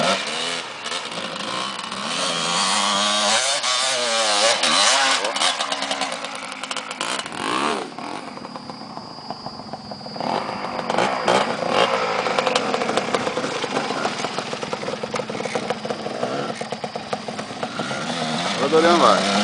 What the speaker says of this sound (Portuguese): Diego na moto do Dorian